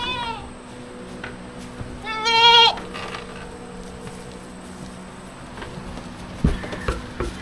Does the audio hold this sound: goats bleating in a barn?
yes